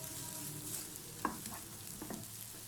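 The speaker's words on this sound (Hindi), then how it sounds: "1 मिनट तक लहसुन को सौते करने के बाद हम इसके अंदर प्याज ऐड करेंगे" Garlic and onions sauté over a medium-low flame for a mixed vegetable soup, giving a steady close hiss of frying with a few sharp clinks and scrapes of stirring against the pan, no voices.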